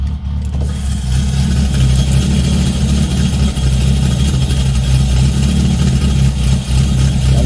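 A car engine runs steadily with a deep, loud, continuous rumble and drone throughout, heard up close on a highway with no voices.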